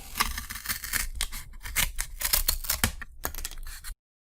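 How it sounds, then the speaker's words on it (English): Scissors snipping out paper craft pieces for a skeleton model, a dense run of close, crisp cuts and rustles lasting about four seconds before stopping abruptly. "Let's cut these out."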